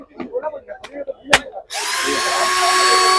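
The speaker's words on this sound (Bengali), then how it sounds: "ব্যাটারি ড্রিল দেখুন, এটা 12 ভোল্টের আছে, 12 ভোল্টের ডবল ব্যাটারি" A 12-volt cordless battery drill with a double battery pack and two speeds spins up into a steady high-pitched whine after a moment of nearby talk, running continuously to the end.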